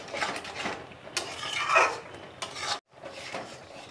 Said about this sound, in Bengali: এভাবে নেড়ে নেড়ে আমি দুধটাকে শুকিয়ে নেব।